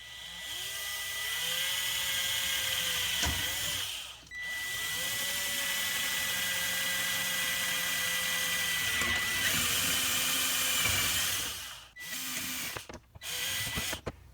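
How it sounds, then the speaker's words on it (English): A power drill whirs in long steady bursts drilling holes in a Costco gutter guard over a wood block, pausing briefly between runs, close and loud, with a few clicks and clunks at the end. "Next, I have a blocking piece of wood and a drill."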